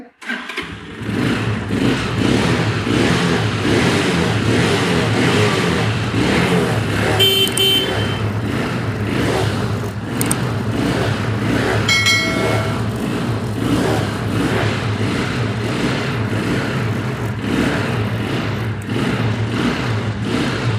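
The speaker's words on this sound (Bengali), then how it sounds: "স্টার্ট অবস্থায় আছে এই বাইকটা" A self-start motorcycle fires up almost immediately, then settles into a loud, steady mid-pitched running rumble close by for the rest of the time, with a couple of brief metallic ticks over the engine and no voices.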